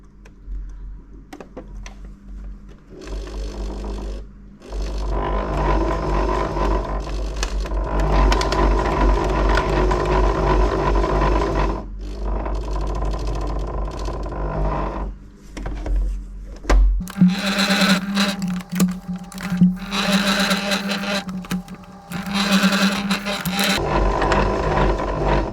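Sewing machine stitching Hilleberg Soulo tent fabric, runs of steady motor whir with rapid needle ticking, separated by short pauses, close and fairly loud, shifting to a higher whine in the later bursts.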